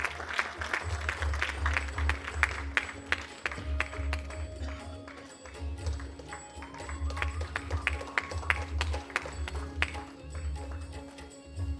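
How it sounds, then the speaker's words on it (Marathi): A kirtan audience applauds an honoured guest at a Maharashtra kirtan competition stage event. Moderate clapping from a crowd comes in uneven waves over a low hum of the hall's sound system. "जोरदार टाळ्या त्यांच्यासाठी मंडळी"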